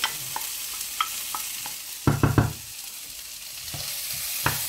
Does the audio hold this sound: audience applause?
no